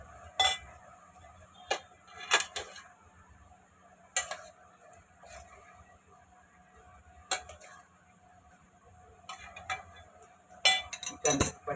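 Spring onion vegetable being stirred in a pan with a utensil, producing scattered metallic clinks and scrapes at irregular intervals, moderately close, with a low background hum and no talking.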